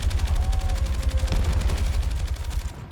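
Continuous rapid machine gun fire from Battlefield 6 gameplay, a dense, loud stream of closely spaced shots lasting almost three seconds, with a brief faint tone partway through.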